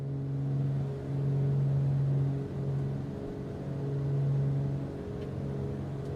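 Turbocharged piston engines of a Beech B60 Duke in Microsoft Flight Simulator 2024 drone steadily in the cockpit, with a low humming tone that swells and eases gently over several seconds, no voices.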